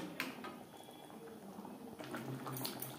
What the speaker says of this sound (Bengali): তিন চার মিনিট গ্রেভির সাথে মাছ বেশ ভালো করে ফুটিয়ে নেব